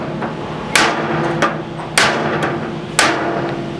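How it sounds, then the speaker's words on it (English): Four sharp metallic hammer taps on a diff drop being fitted to a Toyota Prado / FJ Cruiser, spaced roughly evenly apart, ringing briefly over a low steady background hum. "I've got a hammer, and just tap that"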